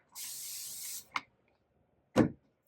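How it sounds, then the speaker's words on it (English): A water spritzer sprays an inked stamp block in a long steady hiss lasting about a second, followed by two short separate spray bursts, close and fairly quiet, with no talking. "now we're going to give it a spritz off here"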